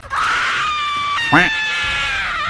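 A woman's long, shrill horror-style scream as a sound effect in a horror story, holding steady, then breaking into a sharp second wail before trailing off.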